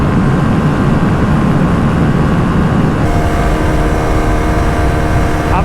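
A TVS RTX 300 motorcycle engine drones loud and sustained at top speed in sixth gear, near 146 km/h, with a steady roar that shifts to a harsher, more tonal whine midway.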